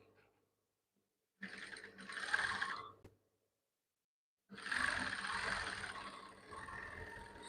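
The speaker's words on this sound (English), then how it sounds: "I am trying to stitch the shoulder area." A sewing machine stitches the shoulder seam of a crisscross bubu dress in two runs, a short burst of about a second and a half, then a longer steady run after a pause, fairly close and alone.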